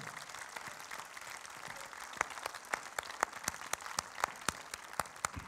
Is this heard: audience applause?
yes